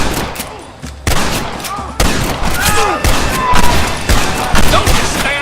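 Rapid, loud volleys of rifle and pistol fire crack and echo during a battle at a gate in the video game Red Dead Redemption, with dense overlapping shots and thuds continuing throughout.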